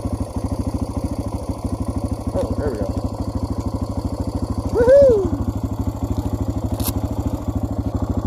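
A parked vehicle's engine idles near High Knob, Virginia, with a fast, even, close-up chugging pulse that runs throughout. A man briefly calls out with a cheerful exclamation partway through.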